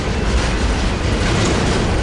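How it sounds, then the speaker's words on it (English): A double-stack container train rolls past at close range, a steady broadband roar of wheels on rails with faint clickety-clack, loud and continuous throughout with no pauses. "Wait a minute, this is a port stacker."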